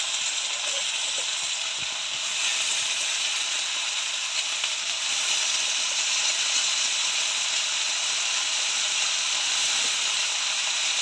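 Onion stalks hit a pan of already-fried potatoes and onion, giving a steady, even sizzling hiss that holds for several seconds, close and with no talking.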